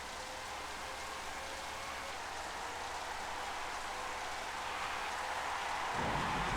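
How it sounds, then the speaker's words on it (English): Steady, dense hiss of heavy rain during a storm at the Barcelona circuit in the 1997 Formula 1 Championship Edition racing game, constant throughout and swelling slightly louder near the end. "It's really storming here."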